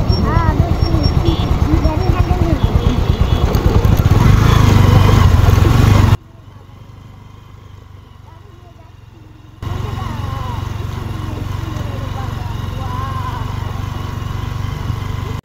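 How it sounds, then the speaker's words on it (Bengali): A motorbike rides down a slope beside a mustard flower field, its engine chugging loudly and close with a rapid pulsing beat, dropping to a quiet lull midway before the engine noise returns. "আমি এখানে খুব সহজেই বাইক নিয়ে নিচে নামে আসলাম"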